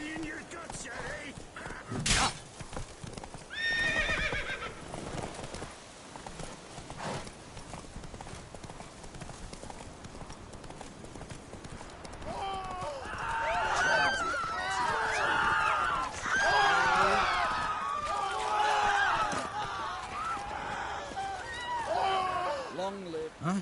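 The horse Roach galloping in The Witcher 3: Wild Hunt on PS5, fast rhythmic hoofbeats with a sharp thud early on, then game characters talking loudly over the continuing hooves.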